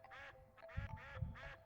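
Ducks quacking in the Dink Smallwood duck hunt game, a series of four or five nasal quacks in an uneven rhythm, fairly clear over a low rumbling background.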